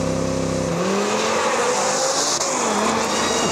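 An Audi launches hard off the line with launch control on a lap-timing run. The engine roars loud and steady, rising in pitch as it pulls through the revs, with a close, continuous drone and no talk.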